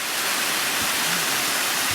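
Kuk-Karauk, a roaring blue waterfall in Bashkiria, gives a steady, dense rush of falling water, loud and continuous throughout with no other sounds.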